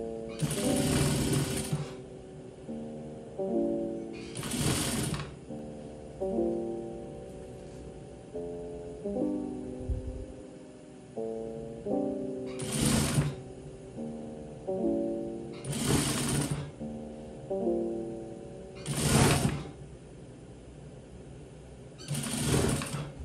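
A sewing machine stitching hoodie fabric runs in a series of short, loud, close bursts, each a rapid whirring rattle, separated by quiet pauses.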